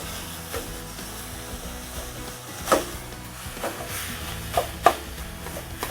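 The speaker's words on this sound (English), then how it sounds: "This is 1 pound of hamburger. Hear that sizzle?" One pound of hamburger meat cooking in a too-hot pan where it sticks, a soft steady sizzle broken by a few sharp scraping and stirring knocks from a utensil, close up and without talk.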